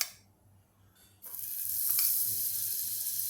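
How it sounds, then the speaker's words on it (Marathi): Butter sizzling in a hot pan as the tempering for pav bhaji begins: quiet at first, then a loud, steady frying hiss that sets in abruptly and holds, with no talk over it. "सगळ्यात आधी आपण टाकणार आहोत बटर थोडंसं"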